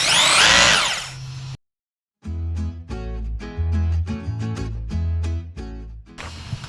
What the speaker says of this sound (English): Here's a tool we like to use all the time, huh, baby cakes? Yeah. Our Bosch hammer drill.